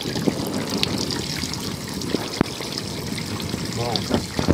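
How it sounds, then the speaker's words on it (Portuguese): An open shower head runs steadily, its spray a constant hissing wash close to the recorder, with a few bumps and faint handling noises mixed in. "Tá aqui a duchinha de água aberta."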